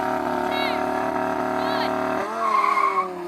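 Lamborghini Huracan Sterrato and Porsche 911 Dakar launching side by side in a drag race: steady loud engine drone with rising gear whine and tyre squeal, then a sharp shift as revs change near the end, with excited voices over it.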